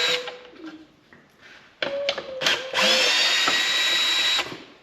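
Power screw gun backing Phillips head screws out of a headlight bracket on a 2006-2012 Lexus IS, short whirring bursts with pauses, then a longer sustained whine, close and loud.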